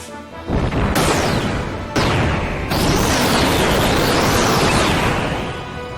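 The Fire Drive attack in the video game Xenogears, a run of loud crashing explosive bursts, three or four sharp hits with rising and falling sweeping tones, close and continuous for several seconds.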